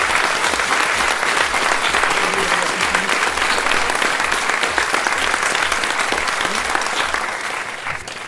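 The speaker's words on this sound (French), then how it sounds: "Merci à eux, encore une fois, on peut les applaudir." An outdoor street-theatre festival crowd applauds volunteers with sustained, dense clapping. It is loud and continuous for several seconds, then eases slightly at the end.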